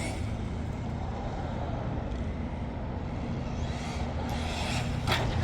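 An Arrma Vorteks BLX 2WD RC car driving with stability control off gives a steady, loud rush of motor and tire noise that holds for the whole stretch, rising slightly near the end.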